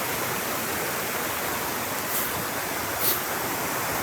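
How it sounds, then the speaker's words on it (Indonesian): A nearby river roars with a loud, unbroken rush of water noise that fills every moment evenly, with no voices and only slight swells. "Suara gemuruh kenceng banget karena dekat sungai"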